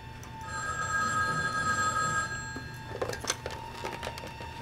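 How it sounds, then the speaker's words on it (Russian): A telephone bell rings in a hotel, a steady bright ring lasting about two seconds before fading, followed by soft clicks and handling noises. "Трубку сними."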